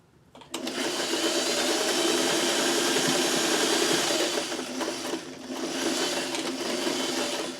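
A sewing machine stitching small quilt crumb pieces together, starting abruptly and running at regular speed in a close, steady whirring hum for several seconds with a brief dip in the middle.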